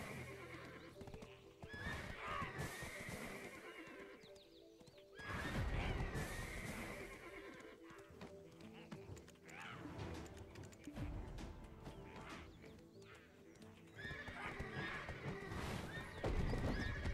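Horses in the video game Black Desert whinny repeatedly over a steady clip-clop of hooves, with louder bursts of neighing breaking through the galloping rhythm.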